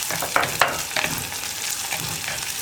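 Sliced onions and green chillies sizzle steadily in a pan for tomato kurma, with a spoon scraping and stirring through the fry at close range.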